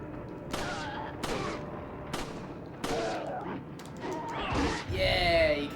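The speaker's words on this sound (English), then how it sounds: "let's shoot these old people" Gunfire from shooting villagers in Resident Evil 4, several sharp shots spaced about a second apart, mixed with game sounds and a voice talking throughout.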